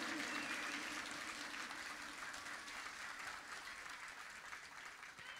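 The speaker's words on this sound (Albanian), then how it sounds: "një duartrokitje e fuqishme." Sustained applause from an audience filling a hall at a festive cultural evening marking twelve years of Kosovo's independence, dense and steady throughout, easing slightly toward the end.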